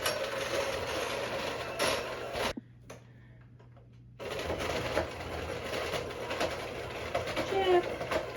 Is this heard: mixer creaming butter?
yes